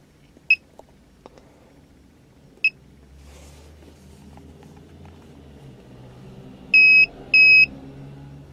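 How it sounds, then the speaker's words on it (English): A KONNWEI 2.8-inch color LCD OBDII code scanner gives short single electronic beeps at about 0.5 and 2.7 seconds, then two longer, louder beeps near the end, over a quiet background hum. "It'll beep like that to let you know that everything is good"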